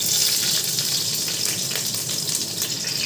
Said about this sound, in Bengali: এবার আমি কয়েকটা কাঁচা লঙ্কা দিয়ে দিচ্ছি